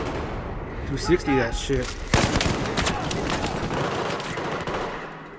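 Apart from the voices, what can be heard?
light machine gun fire in Battlefield 4 video game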